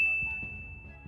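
A single bright bell ding sounds at the start and rings on as a clear sustained tone that slowly fades, with a low rumble underneath.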